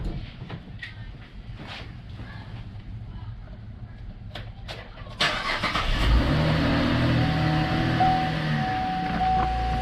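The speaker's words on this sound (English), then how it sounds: "Let me start the vehicle." A car engine cranks and starts during a battery starter test run from under the hood, the starter grinding briefly before the engine catches and settles into a steady idle, close and fairly loud over a low background hum.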